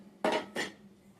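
Two short rattling pours of seeds into a container for sprouting at home, close and crisp, each a brief hard scatter of grains against the surface, with quiet between them.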